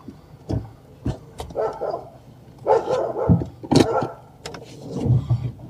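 Several dogs, one of them a German Shepherd, bark loudly and excitedly at a scenic drive past homes in Smokey Vale, Jamaica, with overlapping irregular barks and yips close by, no talking.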